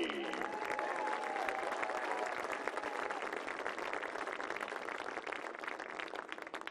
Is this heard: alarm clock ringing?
no